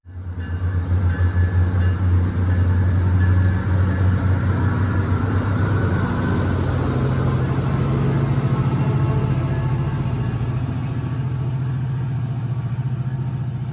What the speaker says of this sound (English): First up is southbound train 339 departing the station.